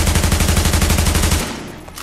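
An AUG rifle in the video game The Division fires a rapid burst of about twenty evenly spaced shots, loud and close, then stops and leaves a fading ring.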